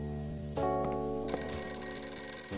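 An electronic telephone rings in the video game Flower, Sun and Rain, its tone jumping in after a moment and sounding clear and steady over quiet background music.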